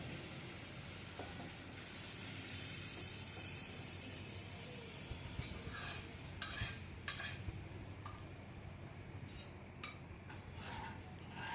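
Dal stirred into a tempering of cloves and a cinnamon piece in a pot, a faint soft sizzle under scattered light clinks and scrapes of a spoon against metal, quiet and close.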